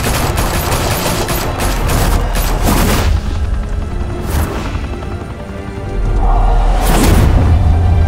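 Loud gunfire erupts in the Batman Telltale game, a dense barrage of shots with booming impacts and sharp cracks continuing throughout.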